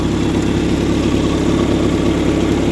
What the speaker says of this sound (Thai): เครื่องยนต์นะครับ